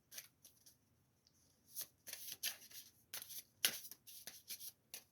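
A borrowed deck of cards is shuffled close by, giving crisp riffling bursts that come in irregular clusters, quiet at first and then busier and louder toward the end, with no talking over it.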